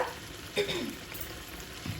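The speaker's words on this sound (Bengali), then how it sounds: "মাঝে মাঝে ফ্রাই প্যানের হাতলটা ধরে গোছে এইভাবে একটু নাড়ায় দিবেন" Spiced eggplant fries quietly in a frying pan, with a faint sizzle and a couple of scraping stirs, soft and close with no voices.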